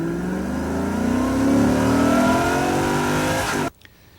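A 1992 Chevrolet Corvette engine revs loud and close, then launches and accelerates as its steady, climbing roar builds. The roar cuts off abruptly near the end.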